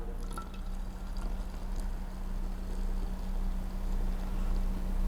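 Steady stream of warm filtered water pouring into a bottle, a continuous rushing splash with a low hum underneath.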